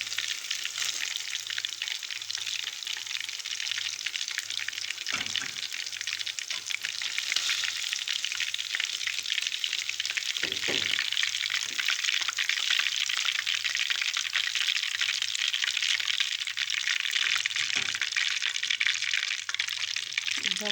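Fish fillets frying in a pan over very low heat give a steady, close, dense sizzle with occasional soft clatters, no voices.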